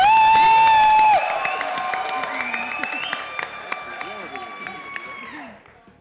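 Studio audience applause and cheering welcoming a cricketer onto a PSL 9 cricket talk show, a steady clapping wash that follows a brief ringing musical sting and tapers off after several seconds.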